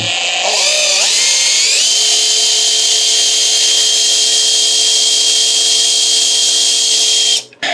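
A power drill whines loudly and continuously, revving up in pitch at the start before holding a steady high drone, then cutting off, while building oil pressure in a Chevrolet big-block engine on an engine stand.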